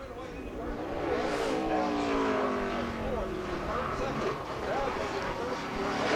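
A NASCAR stock car in 2007 Nationwide Series qualifying on a road course, engine roaring loud and steady as it brakes and accelerates through a tight hairpin, with gear changes and rising and falling revs, and commentators talking over it.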